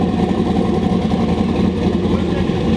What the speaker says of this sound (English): Already the Holly's got it idling like perfectly. 800 RPM, 13, 14 AFR.